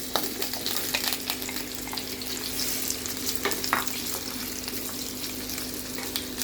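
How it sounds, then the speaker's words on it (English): Potatoes, onion and carrot fry in hot oil in a cooking pot, giving a loud, continuous close-up sizzle with scattered crackles and pops, no talking. "Once the oil hot, let's fry our potatoes and onion."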